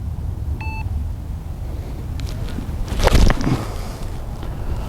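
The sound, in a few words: recording start beep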